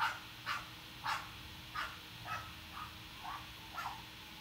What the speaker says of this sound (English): That's why the dog's barking outside.